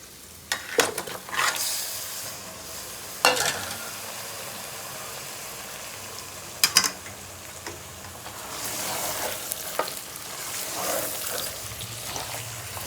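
Three chicken leg pieces fry in a pan with onion, ginger and spices for biryani, giving a steady close sizzle broken by sharp clatters of stirring at intervals. The sizzle swells louder toward the end, with no talking.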